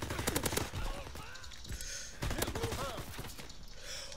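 Rapid gunfire in the Call of Duty WWII video game, with dense automatic bursts loudest in the first second and more volleys through the rest, and game voices faintly mixed in.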